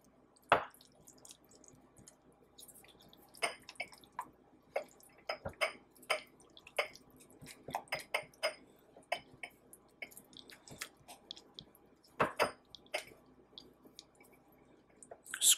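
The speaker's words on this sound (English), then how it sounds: "Okay, and now we'll just mix it up." Homemade Big Mac sauce being stirred and scraped in a bowl, giving a steady run of wet, sticky squelches and soft clicks at close range with no voices.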